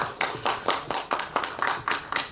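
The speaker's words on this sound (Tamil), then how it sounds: "அதுக்கு ஒரு மிகப்பெரிய கைத்தட்டல் கொடுப்பேன்." Clapping at an awards launch event comes as a loud, evenly spaced series of about eight sharp claps in a steady rhythm, heard on its own without speech.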